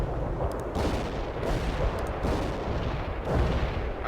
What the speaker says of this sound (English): Cluster bombs are armed.